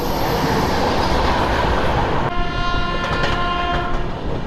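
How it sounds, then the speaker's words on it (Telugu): Hussain Sagar Express train rumbling past loudly and close, its horn sounding a sustained blast partway through over the steady roar of wheels. "సో ఈ ట్రైన్ వచ్చేసి మనకు హింసాగర్ ఎక్స్ప్రెస్ ట్రైన్ ఇది."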